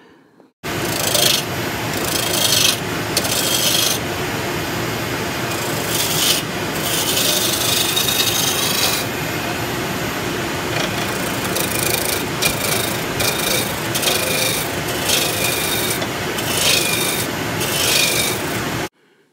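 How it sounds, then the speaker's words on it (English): A 1-inch spindle roughing gouge cuts a kiln dried wood blank spinning on a lathe, giving a loud, steady, rough scraping and rasping that runs for the whole stretch with small surges and no one talking. "So here I'm using a 1-inch spindle roughing gouge to turn the blank round."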